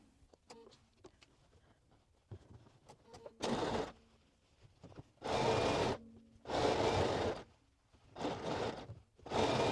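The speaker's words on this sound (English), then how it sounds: "I am sewing with the interfaced piece up." A sewing machine stitches a trouser waistband in several bursts, each running steadily for about a second before stopping. Quieter handling noises fill the pauses between runs.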